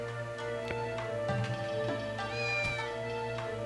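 A cat meows in the video game Onimusha 2, several short mews spaced over steady game music and ambient tones.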